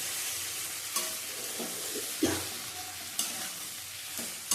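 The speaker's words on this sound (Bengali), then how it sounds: "বেগুনটাও নরম হয়ে গেছে, আর একটু ভাজবো।" Eggplant fries in hot oil for a hilsa fish curry with a continuous sizzle, while a utensil stirs the pan in occasional distinct clicks and scrapes close by.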